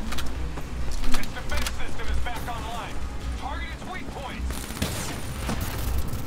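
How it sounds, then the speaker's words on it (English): Call of Duty: Black Ops III gunfire in bursts of sharp shots over a busy game soundscape with clattering effects, loud and close, with no one speaking. "I'm shooting Hendrix now."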